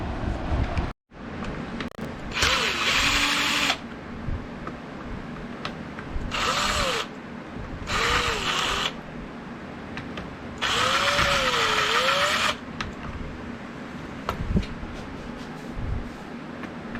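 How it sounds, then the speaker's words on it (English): A cordless drill driver whirs in several short bursts removing screws from a Minn Kota Maxxum Riptide trolling motor handle, spinning up and winding down between pauses, close and fairly loud. "Now I'm using the drill driver"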